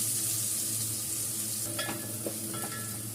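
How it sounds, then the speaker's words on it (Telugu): Carrots lightly frying in a pan for payasam, an even close sizzle with a few brief scraping stirs of the spatula, with no one speaking. "ఈ క్యారెట్ కూడా లైట్గా ఫ్రై చేసుకుందాం."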